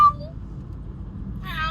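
A pet cat gives a short meow at the start and another higher meow near the end, close and clear, over a quiet indoor background.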